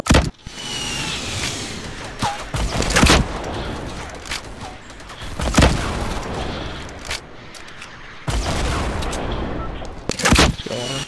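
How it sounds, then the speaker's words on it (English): Gunfire rings out in a Fortnite Battle Royale duo match, with sharp bursts and booming shots scattered through the clip under the steady game soundscape as players talk over it. "Shit, they're shooting at us."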